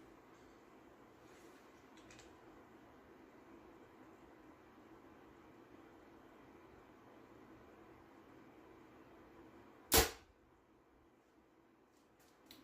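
A Bear Divergent compound bow shoots an arrow, a single sharp, loud snap of the release near the end that follows a long, quiet stretch of faint background hum.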